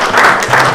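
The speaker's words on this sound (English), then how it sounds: "Clap." Hands clapping for a crown prince at a royal gathering, a short close burst of claps that fills the moment.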